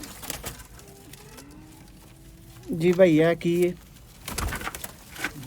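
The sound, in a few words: black-faced pigeons cooing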